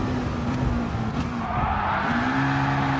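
Race car in Gran Turismo Sport sliding on the final lap, a steady loud engine drone with a long tyre skid whine running under it, tyres worn at the front.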